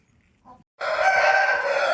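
A rooster kept for sale at a fowl farm crows close and loud in one sustained call that bursts in after a brief quiet cluck, carrying to the end.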